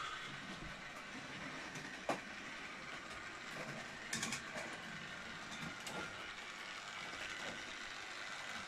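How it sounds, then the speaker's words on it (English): Hornby model train pulling James coaches along a toy track, giving a faint, steady rolling clatter with a few light clicks and no talking. "hopefully the Hornby James's coaches won't derail"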